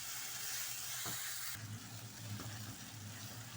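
Spices such as red chili, turmeric and salt roasting in a pan give a steady close sizzle and hiss, which grows fuller and louder partway through, with faint low hum beneath.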